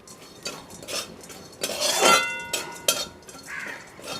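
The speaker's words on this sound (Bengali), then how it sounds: "2 চামচের মতন কসুরি মেথি দিয়ে একটুখানি নাড়াচাড়া করে নেব।" Ground coriander, cumin and dried fenugreek leaves are stirred in a pan with whole spices: a spoon clinks and scrapes against the metal in irregular strokes, close and clear, with no talk.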